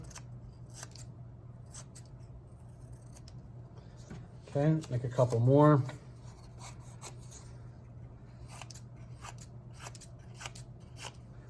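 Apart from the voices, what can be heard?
scissors cutting paper strips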